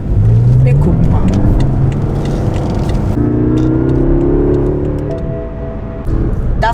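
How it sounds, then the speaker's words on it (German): A BMW car cruising at about 100 km/h on the autobahn, its steady engine and road drone swelling and shifting in pitch as it accelerates, with a voice talking over the cabin noise throughout. "Jetzt fahren wir hier mit 100 auf der Autobahn."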